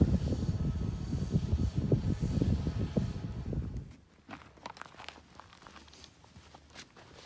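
A steady mechanical buzz of a drone hovering over a campsite in a wildfire-burned area, loud at first and then fading to a faint hum.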